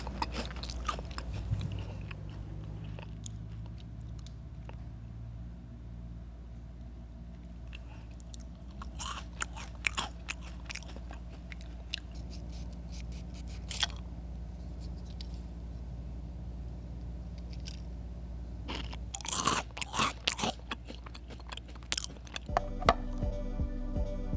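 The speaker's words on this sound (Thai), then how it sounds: "ผมจะลองกัดไส้ให้ดูนะครับ" Close-up bites and crunches into a filled 7-Eleven snack biscuit from Thailand, with scattered crisp crunching bursts, some heavy clusters toward the end, over a low steady background hum and no speech.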